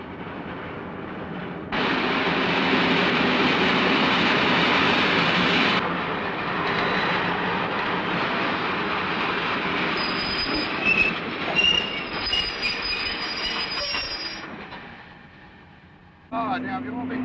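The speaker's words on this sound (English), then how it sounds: "The arrival of the train always causes excitement in the lonely settlements." A train pulling into a lonely desert settlement, a loud steady rumble of wheels on rails with high screeching wheel squeal partway through, close by, with someone talking over it.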